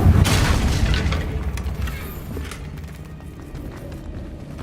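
A Confringo fire spell explodes in Hogwarts Legacy on PC. A loud, deep boom hits at the start and rumbles off over a few seconds amid scattered game noise.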